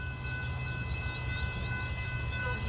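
A California Zephyr passenger train rolls past at Fort Morgan, a steady loud rumble of wheels and cars with sustained horn-like tones held throughout, no voices.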